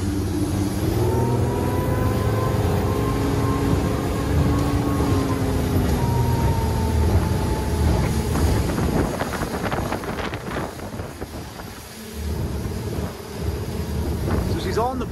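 A Redbay Stormforce 7.4m RIB with a Hyundai 250HP Bravo I X diesel engine accelerates on open water, its engine tone climbing in pitch under heavy wind buffeting and rushing water, with someone talking over it.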